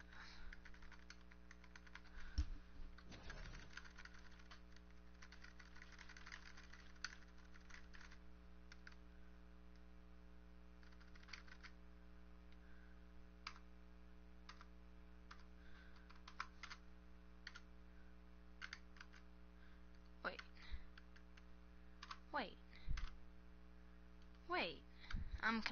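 A Creative computer keyboard is tapped in scattered, sparse bursts of clicks over a steady low electrical hum, with a person speaking quietly at times.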